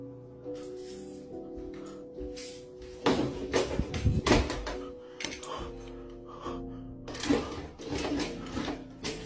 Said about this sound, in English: So footsteps, door opening, Ouija board gets knocked on the floor